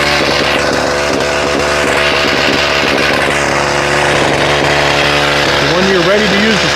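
A Husqvarna 38cc two-stroke X-Torq chainsaw with a 14-inch bar idles loud and close, giving a steady buzzing drone that rises briefly near the end, with a voice talking over it.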